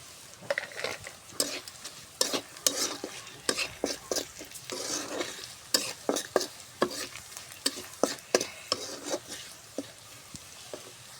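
Spices frying in oil in a pan, with steady sizzling under a rapid, rhythmic series of spoon scrapes and taps as the mixture is stirred, close and moderately quiet throughout.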